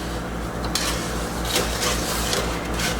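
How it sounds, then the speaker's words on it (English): A spoon stirs a fudge mixture of sugar and light corn syrup in a pot on low heat. It makes soft, continuous scraping and swishing against the pan, with faint clinks, close and steady over a low background hum. "we're going to put this on low heat, and we're just going to stir this around"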